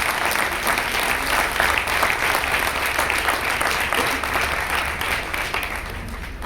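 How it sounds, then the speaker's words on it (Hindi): A church congregation claps loudly and continuously, a thick even wash of hands filling the room without a break. "जोर से ताली बजाएं परमेश्वर के लिए"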